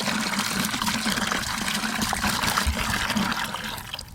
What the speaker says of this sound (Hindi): अब इसमें हम फ्रेश पानी डालेंगे।